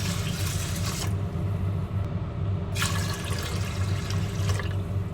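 Water is poured into a pot holding 2 cups of dry rice in a home kitchen, in two bursts of splashing with a gap between them, over a steady low hum.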